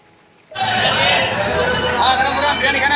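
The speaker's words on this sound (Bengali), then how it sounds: "জলপাইগুড়ি স্টেশন ছেড়ে বোলপুরের উদ্দেশ্যে ট্রেন রওনা দেবে" A passenger train departing New Jalpaiguri station rumbles loudly and steadily after a brief quiet start, with rattling wheels and metallic squeals under a constant roar.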